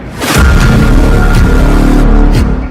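Powerful explosion in Moscow amid the Russia–Ukraine war: a heavy, close boom swells quickly into a sustained roaring rumble with crackling debris that fades slightly near the end, with no talking.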